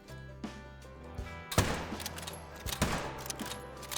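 A rifle fired at an alligator in theHunter: Call of the Wild, one sharp loud report followed by a second shot and echoing rumble over quiet swamp ambience.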